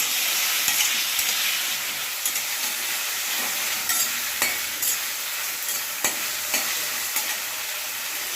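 Chicken fries in a pan with onion, tomato, chili and potato, giving a steady loud sizzle broken by repeated scraping and clinking strokes as the mix is stirred.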